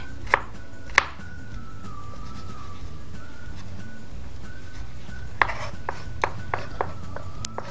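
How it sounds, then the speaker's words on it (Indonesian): Knife chopping garlic on a cutting board for stir-fried bean sprouts, with a few sharp, close taps followed by a later burst of quicker rhythmic chops over a steady background hum. "Bawang putihnya ini nanti juga bakalan aku kayak rajang gitu, aku cacah-cacah"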